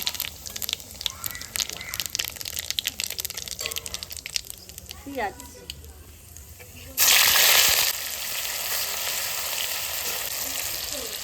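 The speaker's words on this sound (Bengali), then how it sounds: "আমি জিরে তেজপাতা শুকনো লঙ্কা দিয়ে দিলাম ফোড়নে" Cumin, bay leaf and dried chilli crackle in hot oil for a chicken dish, a steady sizzle with a sudden loud hissing burst partway through, then a continuing fry, with kitchen clatter early on.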